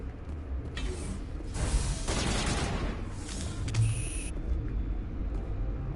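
Turret gunfire in the Mass Effect video game, rapid bursts of loud mechanical shots over a low rumbling background, rising in two main volleys across several seconds, with no voices.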